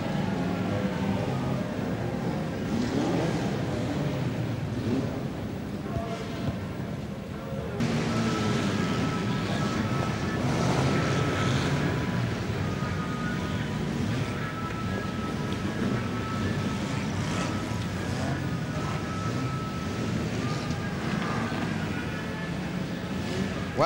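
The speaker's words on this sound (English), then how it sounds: "we now go for the restart of this Stock Car Southern Championship with 17 laps remaining" Saloon stock cars race around a track in 1982 Wimbledon stock car racing, a continuous blurred roar of many engines heard from a distance, dense and steady with a brief dip partway through, with no talking.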